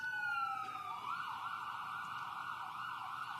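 Wailing sirens rise and fall steadily, loud and continuous, with overlapping tones as emergency vehicles pass nearby.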